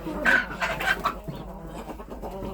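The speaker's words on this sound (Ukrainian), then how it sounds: "Годую птицю." Mixed-breed hens, Australorps, Cochins and bantams cluck and squawk close by during winter feeding, with repeated overlapping calls and a busy farmyard bustle throughout.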